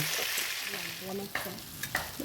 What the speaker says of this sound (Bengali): এবার মাছের মাথাগুলো ভেজে নেব